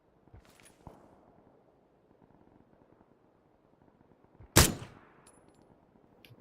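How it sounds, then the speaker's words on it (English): A single sharp, loud gunshot from PUBG rings out alone against quiet game ambience, its report decaying quickly with a faint tail. "if I'm taking shots at somebody"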